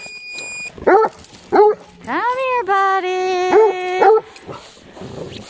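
A dog barks and yips in several loud, close bursts, including a long drawn-out howling bark, outdoors in cold weather, with a person talking to it in between.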